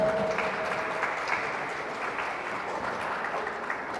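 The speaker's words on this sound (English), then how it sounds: "Applaudissez pour elle." An audience at a Cameroon flag raising ceremony applauds a woman called forward, a soft, even spread of clapping that sounds somewhat distant and muffled and holds steady for a few seconds.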